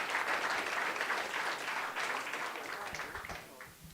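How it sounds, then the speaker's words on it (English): Fairly quiet applause from the audience at the finals of the Women in Tech Hackathon 2024 as someone comes on stage, a soft wash of clapping that slowly thins and fades over four seconds. "Round of applause for the person coming."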